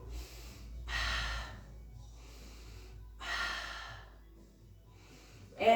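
Heavy breathing during a glute-focused floor exercise, three loud, drawn-out breaths spaced a couple of seconds apart, close to the microphone, with quiet gaps between.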